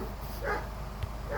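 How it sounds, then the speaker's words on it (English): A dog barks twice in short bursts at a rabbit outside a workshop, faint and somewhat distant over low background noise. "she's barking at a rabbit"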